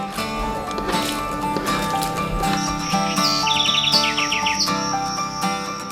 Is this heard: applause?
no